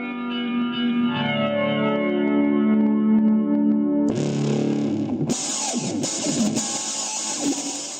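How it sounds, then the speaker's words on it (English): An electric guitar through a multi-effects pedal plays ringing, echoing delayed notes, then switches abruptly to a harsh, fuzzy distorted tone that grows louder and grittier. "a range of distortions that are as rich and bitey as many dedicated distortion pedals out there"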